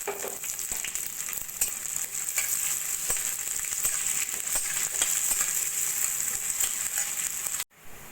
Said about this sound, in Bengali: পেঁয়াজ আর রসুন সোনালি করে ভেজে নিয়েছি